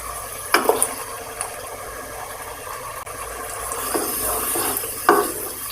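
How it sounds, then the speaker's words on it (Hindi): Beef for nihari fries in a pot over ginger-garlic paste while a spoon stirs it, giving a soft continuous sizzle broken by a few sharp scraping clinks of the spoon against the metal, close and moderately loud, without speech. "अब इसको कम से कम 10 से 15 मिनट भूनेंगे"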